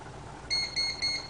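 Three short, evenly spaced high-pitched electronic beeps from an AirWolf device sound close by, clear against a quiet background.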